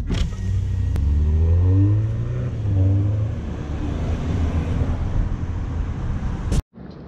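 A 2020 Toyota Supra sports car pulls away, its engine revving loudly and rising in pitch through a couple of gear changes before fading, then an abrupt cut near the end.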